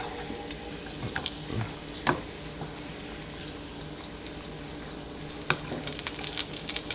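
Sausages frying in a pan, a continuous soft sizzle and crackle with occasional sharper pops and scrapes, fairly quiet throughout.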